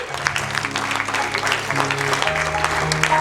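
A church congregation claps and cheers during a sermon, a dense burst of applause with voices mixed in, close and sustained throughout the short stretch.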